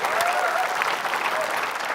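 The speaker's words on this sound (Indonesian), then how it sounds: "beri tepuk tangan yuk" A studio audience at an Indonesian TV quiz show applauds with dense, continuous clapping and some cheering. The sound is loud and sustained across the short moment.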